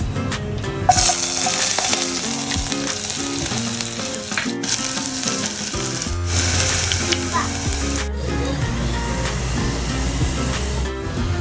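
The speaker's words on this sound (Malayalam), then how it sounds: "കടുക് വറുത്തതാണ്." Mustard seeds sputter in hot oil for a rasam tempering, a loud, continuous close-up sizzle with busy crackling and occasional stirring scrapes throughout.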